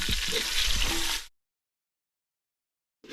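Green and dried chilies fry in oil in a pan, giving a loud, brief burst of sizzling that cuts off abruptly into silence.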